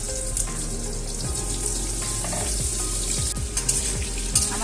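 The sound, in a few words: potatoes frying in spiced oil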